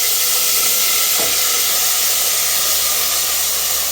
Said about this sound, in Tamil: இப்படி எண்ணெயில் போட்டு நல்லா வதக்கணும்